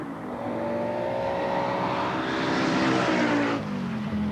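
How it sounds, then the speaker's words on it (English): A 1988 rally car engine revs hard and climbs in pitch as the car pulls away from the start line of a forest rallysprint, loud and close, then the note drops sharply near the end. "Clean away from the start line. Lots of revs up, lots of power."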